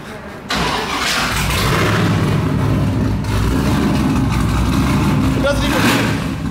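A widebody BMW E36 engine cranks and fires after a brief pause, then settles into a loud, close idle with throaty revs building over several seconds.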